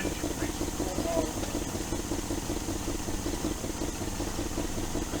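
A 1971 Range Rover engine idles with a low, steady rhythmic chug and faint rattle, fairly quiet and even throughout.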